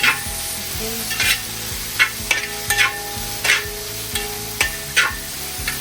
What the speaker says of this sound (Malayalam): അരിഞ്ഞ് വെച്ചിരിക്കുന്ന സവാള നമ്മൾ അതിലേക്കിട്ട് വഴറ്റിയെടുക്കണം.